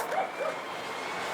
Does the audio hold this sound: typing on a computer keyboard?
no